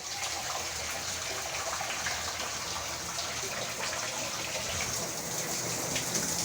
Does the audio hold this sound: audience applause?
no